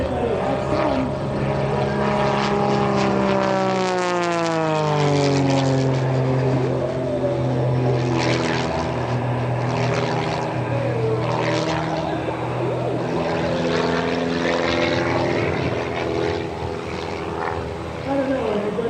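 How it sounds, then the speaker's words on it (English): A propeller airplane drones steadily from inside the cockpit of a Blue Angels-type aircraft, loud and continuous with rising and falling engine tones while voices talk over the radio. "You think he's enjoying flying this airplane?"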